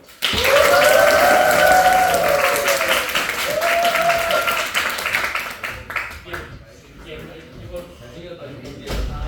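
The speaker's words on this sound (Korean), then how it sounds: "우리 선배님을 위해서 박수" A high school audience in Gyeongju, South Korea, breaks into sustained applause for a guest career lecturer, with some cheering and voices mixed in, loud at first, then thinning into scattered clapping and chatter.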